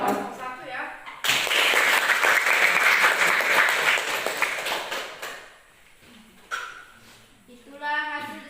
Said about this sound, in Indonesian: berikan aplaus untuk kelompok 1 ya